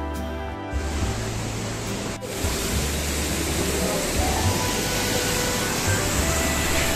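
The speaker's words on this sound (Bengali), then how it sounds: "ছোট একটা সেতু দিয়ে ঝর্ণা পেরিয়ে সেই জায়গা যেখানে মা সীতার সাথে হনুমানের প্রথম দেখা হয" A Sri Lankan waterfall near Nuwara Eliya and Ella, crossed by a small bridge, roars as a dense, steady rush of falling water throughout, loud and close, with no talk over it.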